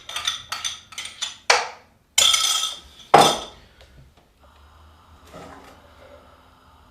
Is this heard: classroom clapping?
no